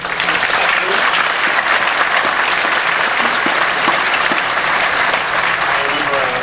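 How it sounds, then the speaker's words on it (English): Loud, dense audience applause fills the hall at a 2018 high school graduation ceremony, continuous and even throughout, with a faint voice or two underneath. "I think we owe these group of people a big round of applause."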